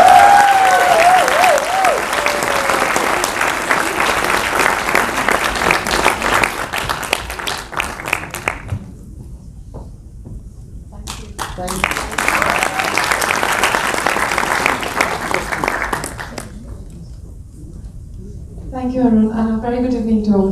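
Loud audience applause fills a BAFTA conversation event hall, sustained for several seconds, then a pause and a second long burst of clapping, before a voice begins speaking.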